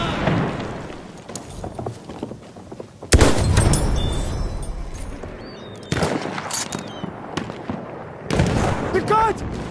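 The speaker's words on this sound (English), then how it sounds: "grenade, watch out!" A grenade blast in the video game Battlefield 1, a loud burst followed by gunfire and battle noise that come in sudden surges, with game voices shouting over it.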